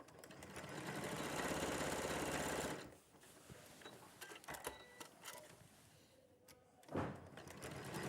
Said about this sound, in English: let's just get the stitch in